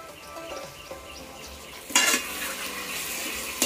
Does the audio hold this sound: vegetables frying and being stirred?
yes